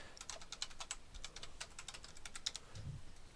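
Quiet, rapid keystrokes on a computer keyboard while a host name is entered to log in to a Linux server, with fairly steady clicks and one louder low thump near the end.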